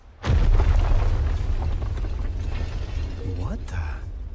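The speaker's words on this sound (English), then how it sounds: "An explosion." Explosion in the video game Ni no Kuni II: a sudden loud boom erupts and rolls into a long rumbling roar with mechanical rattling, while a character speaks over the tail.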